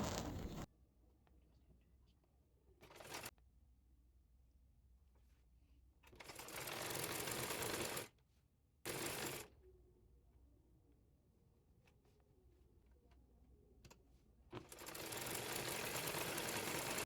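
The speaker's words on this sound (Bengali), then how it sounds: "একইভাবে অপর হাতাটিও চিকন পাইপিং সেলাই করে নেব।" Several bursts from a sewing machine stitching thin piping onto a kameez sleeve, some brief and some lasting a couple of seconds, separated by near-silent pauses with faint handling noises.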